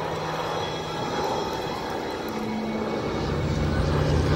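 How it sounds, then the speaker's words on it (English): A C-47 Skytrain military transport aircraft flies at a beach air show, a steady broad piston-engine drone with a low humming tone, moderately loud and continuous throughout. "Lion Air Museum C-47."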